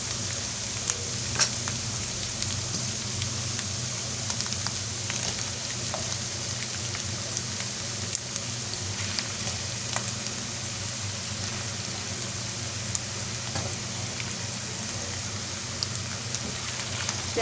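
Onions fry in hot oil in a pan for masala stuffed tinda, giving a steady, dense sizzle that holds at an even level throughout, with no talking.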